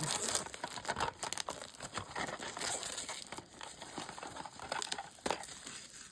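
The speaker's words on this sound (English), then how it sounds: "One of the other nice things of having a hobby knife is to be able to cut open the plastic real quick" A hobby knife slices open the plastic wrapping on a model kit, giving a run of close, loud crinkling and crackling bursts with sharp tearing snaps, continuous and busy throughout, no voices.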